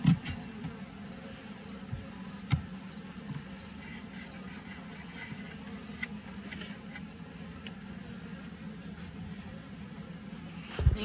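Honeybees hum low and steady around an open horizontal hive during an inspection, a faint continuous drone with a few soft knocks and bumps near the start, middle and end.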